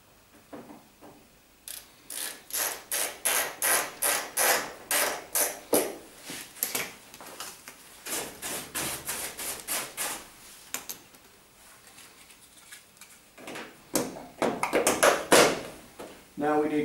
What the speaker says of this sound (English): We'll put our screw back in the side here.